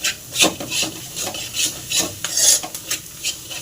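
Spatula scraping and stirring agathi greens and egg stir-fry in a pan, rhythmic rasping strokes repeating about twice a second, close and clear with faint sizzle beneath.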